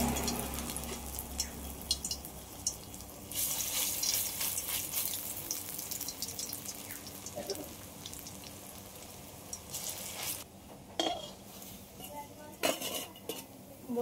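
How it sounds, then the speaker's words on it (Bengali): Pumpkin flower fritters frying in white oil in a wok, with a steady low sizzle under frequent clinks and scrapes of utensils against the pan, a few sharper metallic knocks standing out near the end. "কড়াইতে সাদা তেল দিয়ে দিয়েছি। এবার আমি কুমড়ো ফুলের বড়াগুলো সব ভেজে নেব।"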